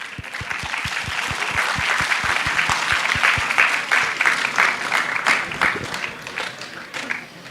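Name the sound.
audience applause at closing ceremony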